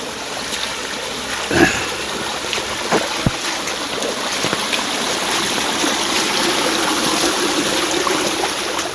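Feet wade through shallow river water in rainy-season Konkan, a continuous rushing and splashing wash with a few louder sloshes, close and fairly loud, no talk.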